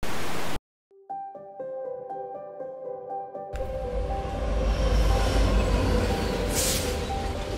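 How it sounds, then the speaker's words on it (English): A New York subway train rushes past, a loud, steady roar of wheels and rumbling cars that swells after a tonal chime-like passage and stays close throughout. "What do I see when I look out the window? I see the subway."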